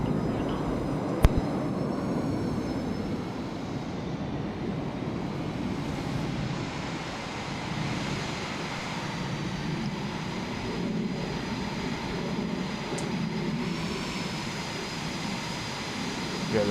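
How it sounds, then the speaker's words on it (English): F/A-18C jet taxiing on a runway at RAF Waddington in a flight simulator game, a steady low engine rumble and whine held at constant level throughout, with one brief click near the start. "Taxi into position, Steve."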